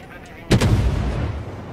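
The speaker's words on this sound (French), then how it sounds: "il essaye de le finir au canon" Naval cannon fire from the ship Akatsuki in the World of Warships game: a single sudden loud boom at once, followed by a long rolling rumble that slowly fades.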